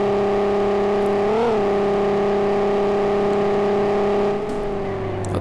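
A Volkswagen Golf V sustains a steady, loud engine drone while driving fast along a road shoulder at high speed, with a brief pitch rise and dip, heard from inside the car.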